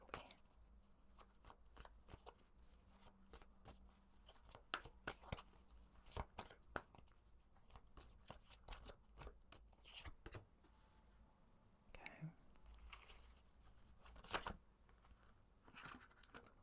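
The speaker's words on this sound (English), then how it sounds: "these thick-ass cards do not want to shuffle correctly." Thick cards being shuffled, with repeated riffling bursts and crisp flutters through the clip, fairly quiet and close, no voices.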